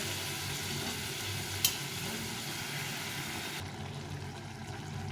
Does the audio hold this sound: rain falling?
no